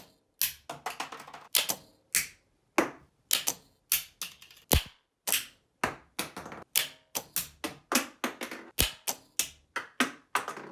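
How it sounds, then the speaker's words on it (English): An Apple AirTag dropped again and again onto a hard surface, giving a long run of sharp, light clicking impacts and quick bounces, close and clear with no voices. "we're going to do 2 more drops from each side of the AirTag."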